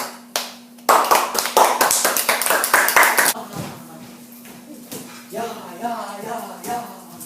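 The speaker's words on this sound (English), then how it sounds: "hand clap." A burst of rapid hand claps, sharp and close, loosely rhythmic for a couple of seconds, followed by quieter tapping and talking.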